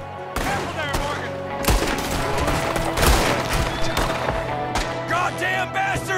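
A Red Dead Redemption 2 gunfight fills the clip with loud, frequent gunshots in irregular volleys over tonal background music, with sharp cracks standing out near the middle.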